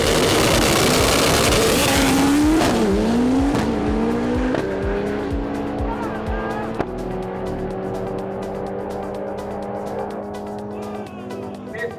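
A loud race car at a racing event roars close by with hard revving engine, tire squeal and pitch sweeps as it launches, then settles into a sustained throaty drone under a bit of background voice.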